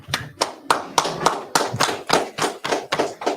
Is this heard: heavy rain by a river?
no